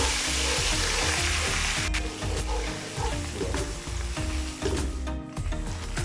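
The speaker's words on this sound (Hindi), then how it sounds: "अभी हम 1 चम्मच इसमें अदरक का कुटी हुई अदरक शामिल कर लेंगे और इसको भी 1 मिनट तक इसके साथ फ्राई कर लेंगे हम लोग।" Crushed ginger frying with onion and garlic in a pan for a mixed vegetable sabzi: a loud, steady close sizzle with clattering scrapes of stirring throughout, and no voices.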